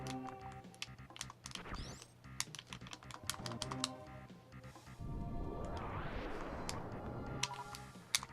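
Computer keyboard keys clatter in quick irregular bursts during a Super Metroid and A Link to the Past combo randomizer session, with dense game music and sound effects playing underneath and no talk.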